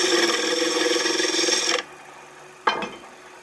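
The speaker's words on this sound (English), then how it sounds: "today I'm going to use a spindle gouge" A spindle gouge cutting wood on a lathe gives a loud, steady rasping scrape for nearly two seconds, then stops short; a brief sharper scrape follows a moment later.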